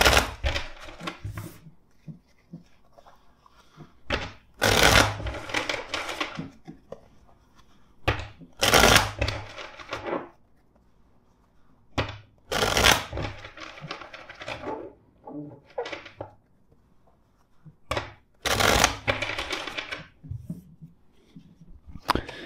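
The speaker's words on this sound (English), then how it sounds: "let's shuffle the deck four times for you" Repeated bursts of a tarot deck being shuffled, several riffles spaced a few seconds apart with quieter handling and rustling in between, close and fairly loud.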